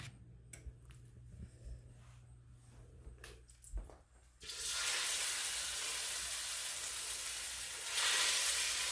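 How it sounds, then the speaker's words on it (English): Deer meat fries in a pot, starting with quiet clatter and small knocks before a sudden loud, steady sizzle takes over and holds, swelling slightly near the end. "We're going to start up frying our meat."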